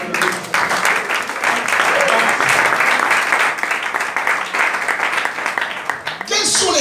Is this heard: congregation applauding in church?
yes